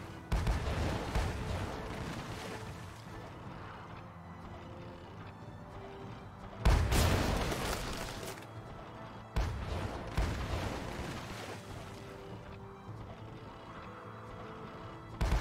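Shipboard cannons in the naval game Sailing Era go off in a few heavy blasts. One big boom lands midway and another follows a few seconds later, each standing out from an ongoing rumble of battle.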